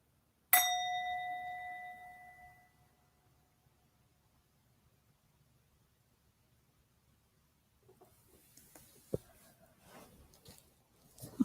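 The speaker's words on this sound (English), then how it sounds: "at the sound of the bell, your meditation is complete." A single meditation bell is struck once to close a session, ringing clearly and ringing out in a long fading tone over near silence, followed later by faint rustling and small knocks.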